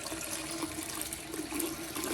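Water gushes steadily from the opened drain tap of a hot water tank into a floor drain, a continuous close, broadband rush with no talk over it.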